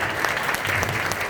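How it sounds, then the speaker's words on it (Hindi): Applause at a ring ceremony in Surat: a crowd claps steadily and densely for over a second, a close, sustained burst of many hands with faint voices beneath. "एक बार पापा के लिए जोरदार ताली।"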